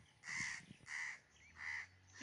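Three loud, harsh crow caws spaced about a second apart, near and clear, with faint low background noise and no talking.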